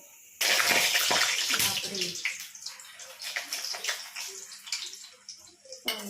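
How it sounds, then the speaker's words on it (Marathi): Frozen food sizzles and crackles as it fries in fresh hot oil in a home kitchen, a dense, steady hissing spatter that starts abruptly and stays loud throughout, with a faint voice in the background. "फ्रीजरला म्हणजे ठेवलेलं असतं ना ते त्यामुळं चांगलं तड तड तड वाजत आहे तळ्यांचं"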